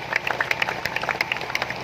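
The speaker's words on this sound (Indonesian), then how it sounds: "Tepuk tangan untuk Pak Nakikupulu" A crowd of community residents gathered for a land-certificate protest claps for a guest, with brisk, uneven handclaps popping close by over a low murmur of the gathering.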